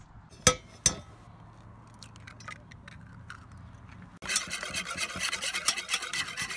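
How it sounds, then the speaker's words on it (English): Four eggs are mixed in a bowl: two sharp clinks, then scattered soft ticks and taps, before a busy, continuous scraping and stirring clatter takes over for the last couple of seconds. "So the first things you want to mix together is the egg."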